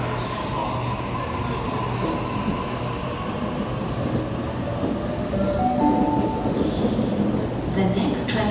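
A train rumbles and clatters steadily as it pulls away from a platform at Central station, wheels and carriages rolling close by, with faint voices in the background.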